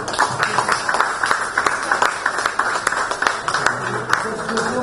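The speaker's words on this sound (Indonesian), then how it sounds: "mari kita tepuk tangan semua" Applause from a gathered audience at an indoor forum: a burst of many hands clapping close by with distinct sharp individual claps, steady for several seconds with faint chatter underneath.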